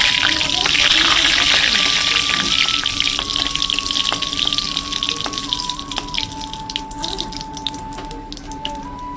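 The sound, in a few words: dried red chilies frying in oil, stirred with spatula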